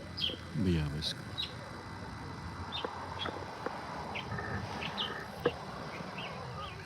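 Faint, scattered bird chirps and tweets come through at a distance over a soft background murmur.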